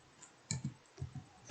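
Keys tapped on a computer keyboard while entering commands in an operating-system lab exercise: a handful of separate, fairly quiet clicks in an uneven rhythm, with a sharper keystroke at the end.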